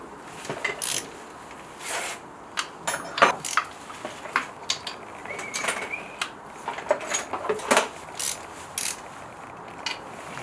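On a Mk2 Golf 16V engine, a ratchet with a 13mm socket and extension works nuts up close in short, irregular clicking bursts, with brief metallic taps and pauses between strokes.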